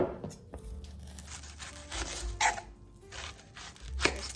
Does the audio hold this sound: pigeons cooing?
no